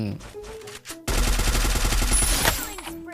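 Gunfire in the mobile shooter Free Fire, a dense loud burst of rapid automatic shots lasting about a second and a half after a brief quieter stretch, with a player's voice around it.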